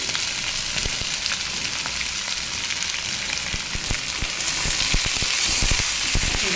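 Pumpkin pieces with salt and turmeric fry in a pan, giving a loud continuous sizzle with scraping and clicking stirring sounds throughout, no talk.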